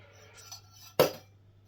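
A single sharp clink as a metal teaspoon taps a container while measuring water conditioner for an aquarium, heard close up after a few faint handling noises, over a low steady hum.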